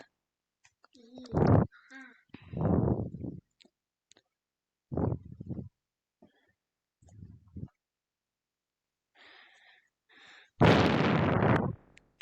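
Explosions go off in a four-player multiplayer tycoon video game: a handful of loud, separate booming bursts spread irregularly, with the biggest blast near the end and a few fainter pops between.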